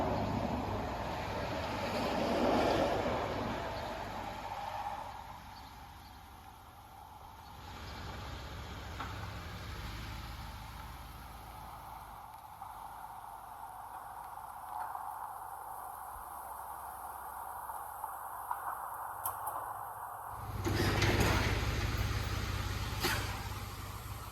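A Cadillac lowrider's engine runs steadily after its belt has been tightened, a continuous mechanical hum and rumble that swells briefly near the start and again toward the end, with no voices.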